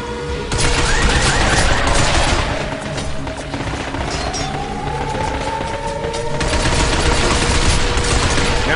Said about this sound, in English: Stop them by shooting their legs.